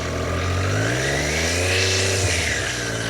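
Triumph Street Triple motorcycle fitted with an Arrow Veloce slip-on exhaust, its engine revved and held around 3,000 RPM, a steady close drone with rising harmonics and no talking.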